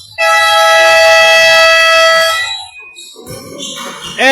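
Long, loud basketball buzzer ending the third quarter of an amateur league game, a steady harmonic blare lasting about two seconds before fading into crowd and court noise.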